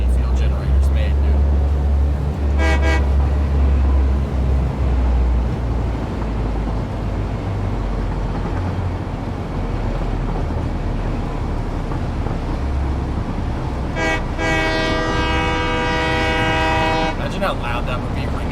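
Train horn in the factory-building game Satisfactory, sounding twice with long gaps between, loud sustained tonal blasts over a constant heavy rumble of the moving train.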